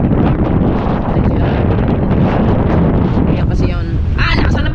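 Strong typhoon wind buffets the microphone in Batangas during a Signal No. 5 storm, a loud, continuous roaring rush with gusting surges throughout and no voices.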